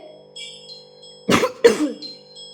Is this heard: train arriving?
no